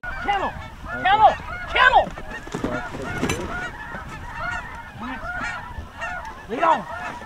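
Snow geese honk repeatedly in loud bursts as they fly overhead during a hunt over decoys, with overlapping calls from several birds and short gaps between them.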